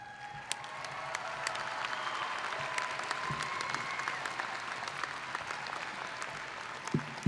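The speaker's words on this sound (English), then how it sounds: "I also now ask for applause the candidates who participate in the Albert Dorman Honors College" At a university commencement, a large crowd applauds Albert Dorman Honors College candidates with steady, distant-sounding clapping, a faint cheer here and there, and an even level throughout.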